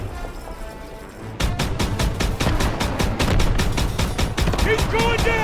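Rapid, dense bursts of gunfire in the Call of Duty: WWII video game, starting after a quieter opening and continuing loud and rhythmic throughout, with a voice calling out over the shooting near the end.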